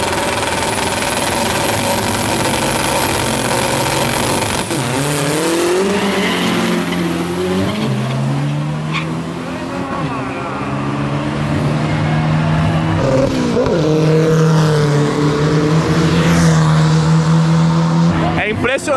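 Fast cars at a drag racing event, including a Fiat 147 and a naturally aspirated Camaro, roar loudly with revving engines rising and dropping through gear shifts and tire squeal, a voice talking over the noise.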